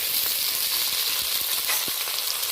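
Onion and tomato frying together in a pan, a continuous, even sizzle with occasional soft pops and utensil taps.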